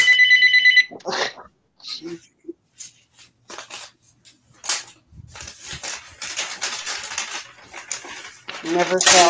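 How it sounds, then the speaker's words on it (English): A telephone rings with a brief rapid electronic trill at the start, followed by clatter of craft supplies, short voices and small household noises indoors, with another burst of ringing-like sound near the end. "That phone rings."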